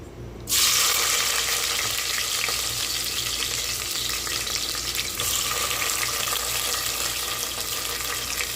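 Onions dropped into hot ghee and coconut oil for chicken biryani set off a loud sizzle that holds as a steady, close frying hiss.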